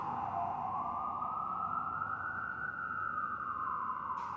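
A single emergency siren wails in one long, slowly rising and falling tone, steady and moderately distant, with no voices over it.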